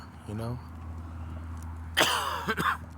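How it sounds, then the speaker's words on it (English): Two harsh, noisy bursts close together near the end, like a cough, following a short voiced sound over a steady low hum. "Sorry about the cough."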